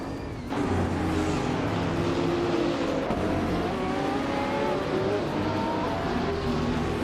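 Race cars in a video game, 2016 Ford GT LMGT entries among them, roar in a dense, continuous engine drone with rising and falling revs and a faint hint of tire squeal, loud and close with no talking.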